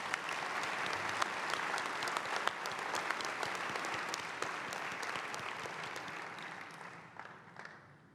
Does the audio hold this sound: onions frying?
no